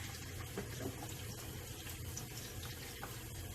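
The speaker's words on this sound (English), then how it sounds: "I'm just gonna wash these in warm water." Warm tap water runs steadily into a sink as pounded conch pieces are rinsed for Belizean conch soup, a continuous close splashing hiss with no speech.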